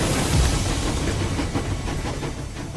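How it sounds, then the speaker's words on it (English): A train in the video game Metro Exodus rumbles along with a steady clattering of wheels on rails, loud and close, with a broad hissing roar underneath. "On the train they go."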